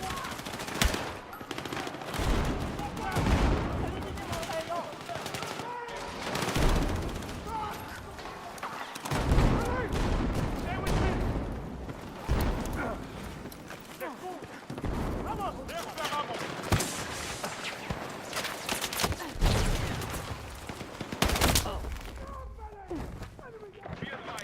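Gunfire in Battlefield 6, repeated automatic bursts and single shots at varying distances recurring across the scene, with someone talking over much of it.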